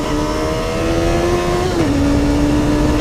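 A motorcycle engine revs steadily and close by, its pitch climbing then dropping briefly as a gear shift goes through with a strained clutch, before holding a loud, continuous drone with no talk.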